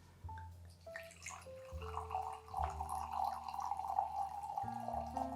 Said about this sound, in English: we can just go ahead and pour the wine as usual to the guest